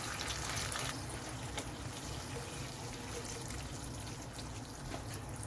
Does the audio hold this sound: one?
yes